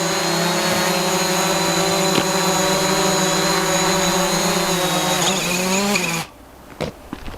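DJI Mavic Pro drone landing: a steady, close propeller whine with a falling pitch as it touches down, then cutting out abruptly near the end, followed by a few light handling clicks.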